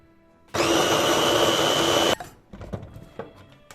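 A blender chopping aloe whirs loudly for about a second and a half, then cuts off, leaving faint clattering and handling noises.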